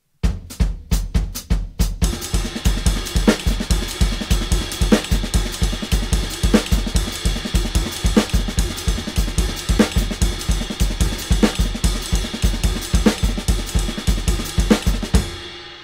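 A full drum kit plays a fast hybrid Latin pattern, opening with a quick burst of count-in clicks before dense, driving kick, snare and cymbal hits roll on steadily, loud and close, with no voices.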